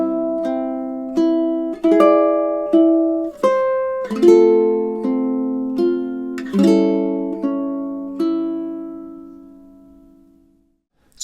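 A ukulele plays several measures of the Mexican folk song Cielito Lindo, with clear plucked notes and strummed chords in a steady rhythm that rings out and fades at the end, played solo and close.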